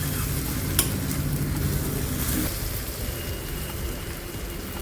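Crispy breakfast snack frying in butter on a pan, with a steady, close sizzle and crackle throughout and no talking.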